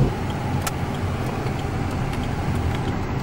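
A car rolling slowly at idle through a turn, heard from inside as a steady low engine and road rumble with faint rattles, no talking.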